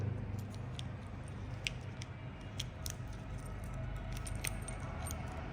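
Small metallic clinks and jingles of two Honda X-Blade motorcycle keys, scattered and light, over a steady low background hum.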